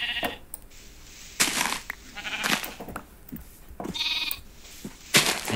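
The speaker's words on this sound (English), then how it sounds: "I just realized I'm holding wheat in the game right in front of sheep" Sheep in the video game Minecraft bleat in several short, nasal calls spaced a second or so apart, fairly close and clear, with quiet gaps between them.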